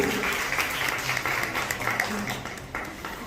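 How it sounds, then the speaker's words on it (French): An audience claps loudly and continuously at a nursery school end-of-year show. The applause is dense and sustained, with faint voices mixed in. "On les applaudit."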